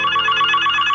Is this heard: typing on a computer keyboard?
no